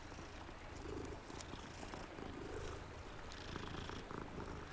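A cat in Hogwarts Legacy purrs in a soft, continuous rumbling drone as it is petted, close and quiet, with no talking over it.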